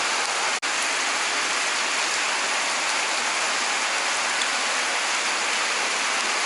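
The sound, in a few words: rain falling at night during a bike ride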